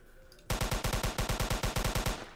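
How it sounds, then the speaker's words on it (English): Automatic gun in a Roblox game firing a rapid, steady stream of loud, evenly spaced shots that starts abruptly and runs for about two seconds. "You can straight up just shoot."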